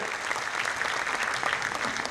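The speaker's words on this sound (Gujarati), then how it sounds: "જોરદાર તાળીઓના નાદથી વધાવીએ" A crowd at a cooperative credit society's annual general meeting and musical night applauds in a dense, continuous wash of claps, steady and moderately faint, with no talk over it.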